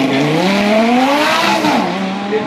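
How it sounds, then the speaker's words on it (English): A Lamborghini Gallardo Superleggera, the lightweight V10 model, races in a supercar class. The engine note is loud and continuous, with its pitch climbing steadily, then dipping as the car shifts near the end. "this is the Superleggera, lightweight Gallardo V10 engine back"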